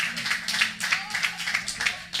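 Light, scattered clapping from a small audience at a pitch event, a few hands beating in an uneven rhythm for a couple of seconds.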